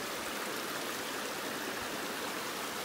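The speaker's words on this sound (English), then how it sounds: "This is actually probably one of the more major creeks I've come across." Broad, steady rushing of a fairly large mountain creek in the Rockies near Mt Robson, heard close with continuous turbulent water noise and no other sounds.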